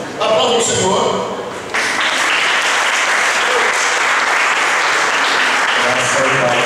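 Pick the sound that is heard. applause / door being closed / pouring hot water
applause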